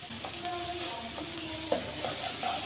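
Snake gourd and egg fry is stirred in a pan over a soft, steady sizzle, with scraping strokes and a few light clinks of the utensil, close and fairly quiet, with no talking.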